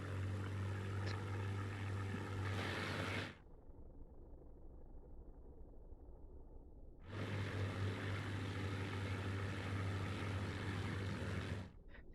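Engines of World War II propeller fighter planes in Scramble: Battle of Britain make a steady, loud droning roar that cuts out abruptly. A low rumble follows, then the full roar returns for several seconds, with no talking.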